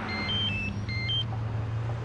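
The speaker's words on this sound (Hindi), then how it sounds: "ओ, फोन बज रहा है." A mobile phone rings with a repeating electronic beep pattern, bright and fairly clear, over a steady low hum in the background. No one talks.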